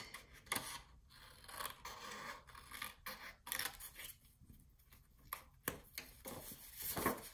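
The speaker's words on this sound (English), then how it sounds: "we're just gonna cut out these bottom rectangles right here" Scissors snip through paper card while cutting out rectangles for an A2 envelope, a series of close crisp cuts and rustles in an irregular rhythm, with quiet gaps between strokes.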